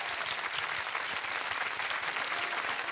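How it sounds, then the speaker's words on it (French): A studio audience on a French game show breaks into loud, dense applause, a continuous wash of clapping that holds evenly throughout. "je voudrais qu'on applaudisse très très fort nos camarades de jeu"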